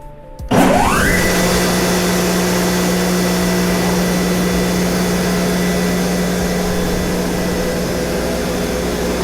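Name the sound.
Mereen Johnson 435-H multiblade gang rip saw running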